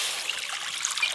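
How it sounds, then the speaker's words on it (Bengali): Water trickling and splashing into a cooking pot over a lit clay stove for boiling cut figs, a steady soft pour lasting about a second with no talking. "ডুমুর সেদ্ধর জন্য কোড়াতে জল"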